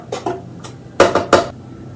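A utensil stirring kosher salt around a metal bread machine pan gives a few quick, close scraping clinks and taps in irregular bursts.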